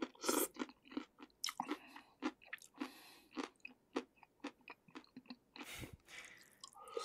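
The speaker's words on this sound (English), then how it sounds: "Will Smith eating spaghetti." AI-generated sound of someone eating crunchy spaghetti: a steady run of close, loud crunching bites and wet chewing with short pauses between them, and no talking.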